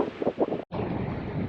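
Wind gusting across the microphone beside Lake Argyle, a steady rushing roar with a couple of louder buffets and a momentary dropout, no voices.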